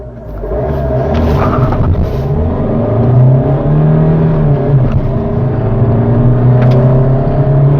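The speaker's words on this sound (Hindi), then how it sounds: "मैं डीजल इंजन चला रहा हूँ, तो पहले हम बात करेंगे इनिशियल पिकअप की।" A diesel Hyundai Elite i20 facelift pulls away from a standstill, its engine note rising steadily in pitch under acceleration. The drone is loud and close, heard from the cabin, with no talking.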